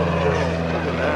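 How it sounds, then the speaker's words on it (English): An airplane at an airshow passes overhead with a steady, droning engine hum, continuous and moderately loud through the moment. "There goes the airplane."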